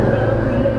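A car speeds past on a Staten Island street, a loud, steady low rumble of engine and tire noise filling the whole brief moment at close range.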